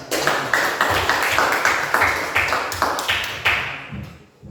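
A group applauds in a steady, rhythmic pattern of sharp synchronized claps, loud and close, fading out at the end.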